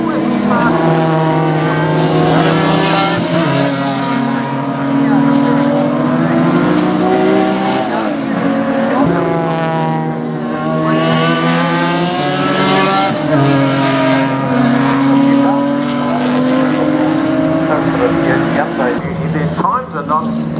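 Improved production race cars at Baskerville circuit in a 2021 Tasmanian round, engines roaring loud and continuous through 20 seconds with rising and falling revs as they pass, a commentator talking over the top.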